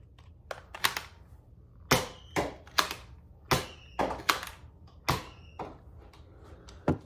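Nerf Elite 2.0 Prospect QS 4 blaster firing screamer darts, giving about nine sharp, close shots in uneven succession, some followed by a short whistling trail.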